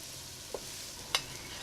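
Prawns and potatoes stirred with spices in a pot under a soft, steady frying hiss, with two short spoon knocks against the pot; no voices.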